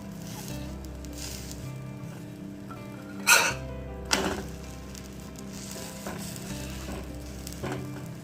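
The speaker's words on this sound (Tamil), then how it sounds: "முட்டையை லைட்டாக இந்த மாதிரி திருப்பி போட்டதுக்கப்புறம் கொஞ்சம் ப்ரெஸ் பண்ணிக்கோங்க." A vegetable omelette fries quietly in a pan as it is pressed down, a soft even sizzle interrupted by a couple of brief sharp clatters from the spatula.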